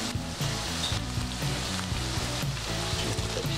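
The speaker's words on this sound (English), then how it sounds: "got the beef and onion cooking up quite nicely in the pan" Beef and onion sizzle and fry in a pan, a steady close crackle with faint stirring knocks over the hiss, no voices.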